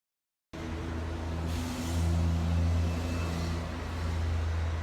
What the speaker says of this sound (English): Traffic. It's back.